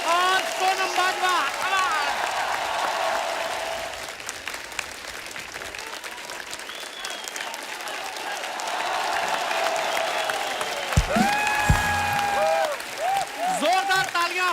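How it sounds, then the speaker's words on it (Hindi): A studio audience on a Hindi television comedy talk show bursts into sustained, loud applause and cheering to welcome celebrity guests, the clapping filling the whole stretch with a swell near the end. "जोरदार तालियां हो जाए हमारे मेहमानों के लिए।"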